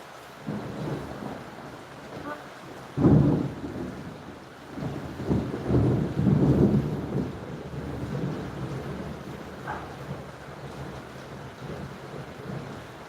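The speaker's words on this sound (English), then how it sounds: "I hope the rain has stopped now so that the noise can be lessened." Thunder rumbles through an outdoor rainstorm, with steady rain and wind noise throughout and a loud, low crack of thunder early on followed by a longer rolling swell in the middle; no one speaks.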